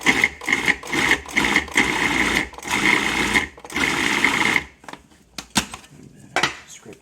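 A food processor purées mousseline forcemeat with egg white into a smooth paste, its motor whirring in steady pulses of close, loud blending before stopping, followed by scattered clicks and scraping.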